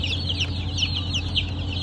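Ross 308 broiler chicks in a coop give a busy chorus of high, rapid peeps over a low steady hum, with no talk.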